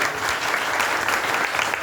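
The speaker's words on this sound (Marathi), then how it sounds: "यांच्यासाठी जरा जोरदार टाळ्या वाजतो" An audience gives hearty, sustained applause for a Dashavatar folk-theatre actor, a close, even roar of many hands clapping without pause.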